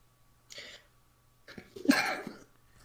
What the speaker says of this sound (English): That was me holding back a sneeze.